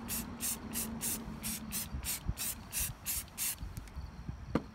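Rust-Oleum black spray paint misted onto a plastic storm trooper blaster in a series of short, evenly spaced hissing bursts, about a dozen quick light passes, fairly quiet and close, ending with a small knock.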